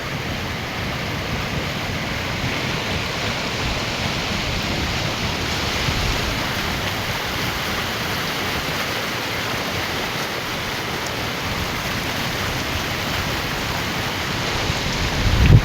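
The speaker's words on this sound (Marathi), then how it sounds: "आमच्या गावातला संपर्क सुटलेला आहे पाणी बघा पावसाने धुमाकूळ घातलेली आहे" A swollen village river rushing after heavy rain, a loud continuous broadband roar of flowing floodwater, steady throughout and heard up close.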